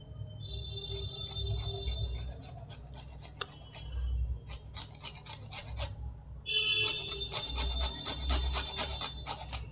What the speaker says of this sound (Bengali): এই গন্ধরাজ লেবু এই যে ওপরে যে সবুজ অংশটা, এখান থেকে আমি কিছুটা ঘষে নেব।